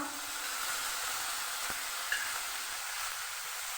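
Ginger-garlic paste frying with onions in a pan, a steady soft hiss and sizzle with a faint clink near the middle.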